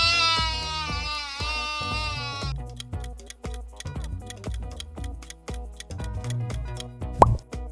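A single drawn-out sheep bleat with a wavering tone sounds over a steady thumping, ticking music beat, then fades out while the beat continues alone.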